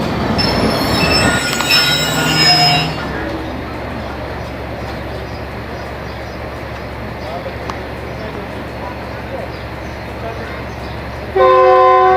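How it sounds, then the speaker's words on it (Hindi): A Shah Latif Express train sits on the loop line at Landi station. Loud rail noise opens with a horn blast and squealing wheels, then settles into a steady, rumbling drone of train cars, with a sharp burst again at the end. "लूप लाइन पे शाह लतीफ़ को लिया गया है।"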